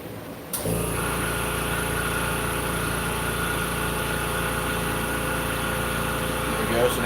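An air compressor in a laser cutting and engraving workshop kicks on abruptly and then runs as a steady, close motor drone with a constant hum that holds until the end.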